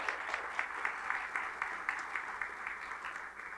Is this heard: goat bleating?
no